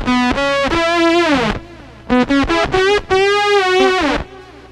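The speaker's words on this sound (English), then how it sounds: "So what you're hearing now is the voltage controlled oscillator," A Roland GR-300 guitar synthesizer's voltage controlled oscillator gives a buzzy, distorted synth-like lead playing sustained notes with gliding pitch, two phrases separated by a short pause, loud and close.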